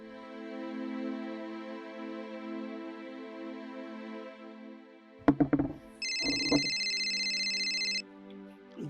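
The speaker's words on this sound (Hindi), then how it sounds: "भाई ये फोन भी चैन ना लेता, बजता ही रहे हैं।" A phone rings with a steady electronic melody, then handling clicks and a brief pause before a loud, continuous ring tone sounds.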